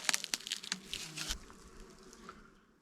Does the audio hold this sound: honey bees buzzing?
yes